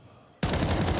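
A sudden loud burst of rapid automatic gunfire breaks in after a quiet moment, warning shots fired in an esports shooter match and continuing as a sustained rattle to the end.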